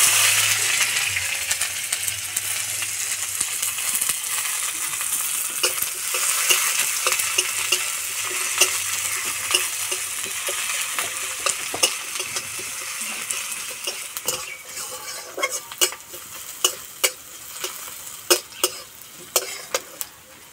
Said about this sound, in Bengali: পেঁয়াজ হালকা লাল করে ভেজে নিয়েছি।